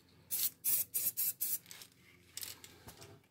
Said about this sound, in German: dann nimmt er einfach hier ein bisschen Wachs und sprüht es einfach ein bisschen ein